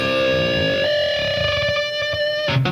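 A distorted electric guitar sustains a dissonant note pair while one string bends slowly up into unison, the beating tones smoothing out over about two seconds before a brief scrape at the end.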